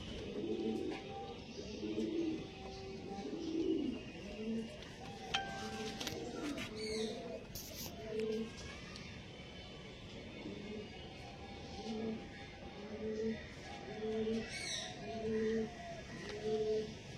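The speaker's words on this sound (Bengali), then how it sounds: "চলো আমি পায়রা ঢুকে খোপে ঢুকে সব করে দিচ্ছি তোমাদেরকে," Tippler pigeons in a loft cooing in repeated soft throaty phrases, several birds close by with a few brief clacks and rustles, steady rhythm throughout at low overall volume.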